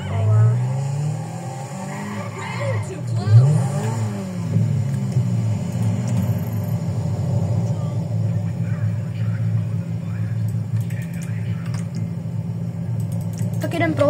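A car in the video game GTA Online drives with a steady low engine rumble and occasional revving and tire noise, loud and continuous throughout, with a voice talking over it at times.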